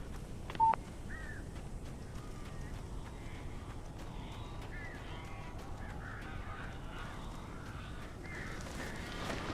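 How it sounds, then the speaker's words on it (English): Birds cawing in the video game Alan Wake Remastered, a few scattered crow-like calls over a steady ambient hum, with a sharp tone near the start. "These birds are weird."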